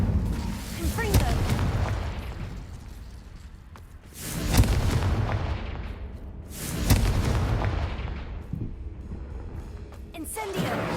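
Blasting Confringo spell explosions from a wizarding video game, with heavy booming bursts rising around the middle and again shortly after, over a continuous rumbling battle bed, with voices calling out between the blasts.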